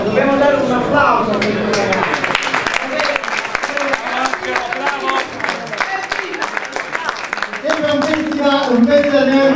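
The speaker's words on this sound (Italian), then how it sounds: "Dobbiamo dare un applauso." An audience at a live stage show claps steadily in a dense burst of many hands, framed by someone speaking loudly into a microphone before and after.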